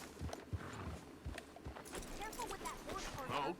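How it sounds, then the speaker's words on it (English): Horse hooves clip-clop in Red Dead Redemption 2, a light rhythmic patter of footfalls beneath continuous talking voices and game ambience. "Careful with that horse right there."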